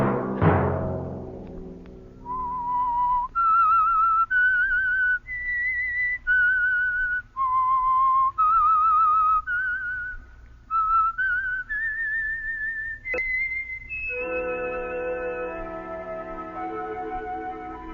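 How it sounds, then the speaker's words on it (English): A lone whistler performs the signal theme of the Whistler radio mystery show, a clear melodic run of sustained notes rising and falling, with an orchestral chord swelling in at the end. "Let that whistle be your signal for the Whistler"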